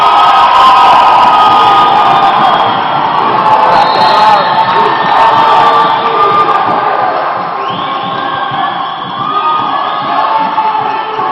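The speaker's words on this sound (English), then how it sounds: "Crowds are cheering them on." Loud crowd cheering and shouting at a women's dodgeball world championship match between Australia and the USA in Cancun, 2019. The roar is continuous and dense, with whoops and high cries rising over it and easing slightly toward the end.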